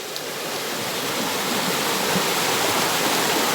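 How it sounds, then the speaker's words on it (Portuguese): A small waterfall gives a steady, full broadband rush of falling water, close and constant throughout, with no voices over it. "olha a cachoeirinha como é"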